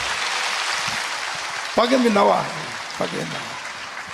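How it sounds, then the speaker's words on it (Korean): A church congregation at a Busan revival meeting claps in a steady, dense wash for the first second and a half. A voice then speaks over the fading applause. "박수."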